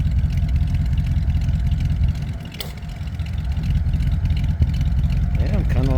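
Ford F100 truck with shortened glass pack exhausts idling outdoors: a loud, steady low rumble that dips briefly midway then returns, with a short sharper sound near the end and people talking nearby.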